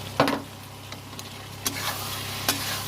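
Paneer cubes fry in a pan for aloo paneer curry, a soft steady sizzle broken by a few sharp stirring scrapes, close and fairly quiet.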